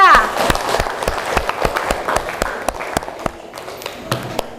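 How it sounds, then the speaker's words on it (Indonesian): Applause in a classroom for two student groups, a burst of many hands clapping at once that carries steadily for several seconds before thinning to scattered claps. "Tepuk tangan untuk kelompok 1 dan kelompok 2."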